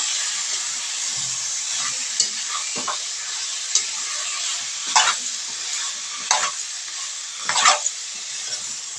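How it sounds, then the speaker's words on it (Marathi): A spoon scrapes and stirs jackfruit curry in a hot pan, with a steady sizzling hiss and several distinct scraping strokes at irregular intervals. "आता छान असं मिक्स करून घ्यायचं आपल्याला"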